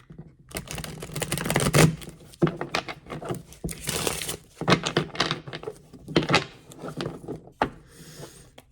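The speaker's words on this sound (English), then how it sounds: "Bear with me as I try to shuffle this deck. It's a very stiff deck, very difficult to shuffle." Irregular bursts of riffling and slapping as stiff cards are shuffled up close, with crisp flutters separated by short pauses.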